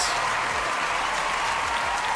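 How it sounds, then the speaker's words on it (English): A crowd cheers and applauds continuously at close range, a dense unbroken roar of clapping and shouting over about two seconds, with no speech. "Listen to how they cheer."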